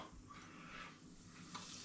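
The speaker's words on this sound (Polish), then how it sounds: "A więc te jajeczka teraz no po prostu trzeba smażyć i to wszystko." Breaded Scotch eggs frying in hot oil, giving a soft, steady sizzle with light bubbling and faint stirring, close but quiet, with no voices.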